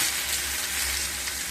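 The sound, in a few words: pomfret fish frying in oil after being flipped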